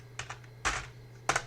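Command typed on a computer keyboard at a Linux terminal, a few quick bursts of close clicking keystrokes separated by short pauses over a low steady hum, no talking.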